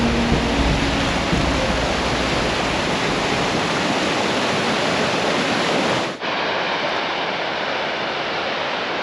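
Steady, rushing river water fills the scene with a dense, even roar, close by, with no voices over it.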